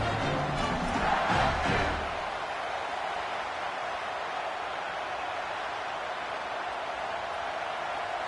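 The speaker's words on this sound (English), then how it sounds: "This crowd trying to do its part to get inside the kicker's head." A football stadium crowd roars during a field goal attempt, a broad loud swell in the first two seconds that settles into a steady, distant wash of crowd noise.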